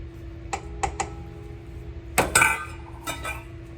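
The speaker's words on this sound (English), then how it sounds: "we're going to add our shortening" Shortening goes into a mixing bowl for cake batter, heard as a few sharp clinks of a utensil against the bowl and then a louder clattering scrape, over a faint steady hum.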